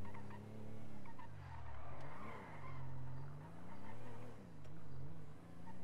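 A car driving and skidding in the video game GTA 5, engine droning steadily with repeated rising and falling tire squeals as it swerves, fairly close and without talk.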